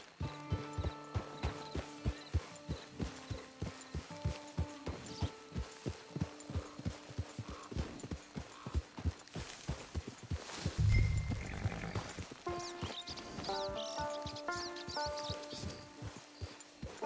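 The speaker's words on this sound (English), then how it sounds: "It's your horse." Steady rhythmic hoof clops of a horse walking, evenly paced and fairly close, over a backdrop of sustained musical tones, from the video game Red Dead Online.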